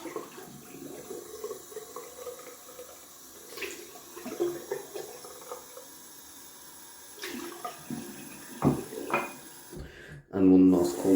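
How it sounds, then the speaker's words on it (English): Tap water runs and splashes as a shaving brush mug is rinsed at a sink. The flow is intermittent, with clinks and handling sounds, and it swells into a louder, fuller gush at the end. "we let that Alum sit for some seconds and rinse off the brush mug."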